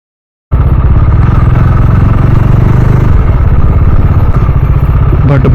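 A Bajaj Dominar 400 motorcycle on an off-road ride near Sooramane Falls in Kalasa bursts in after a short silence, then holds a loud, close, steady engine roar with rattling clatter.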